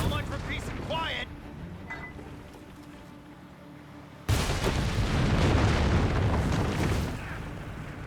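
Artillery gun fire in Company of Heroes 3 during a DAK versus USF match: a heavy boom hits partway through and rolls into a sustained, loud rumble of battle, with voices faintly present.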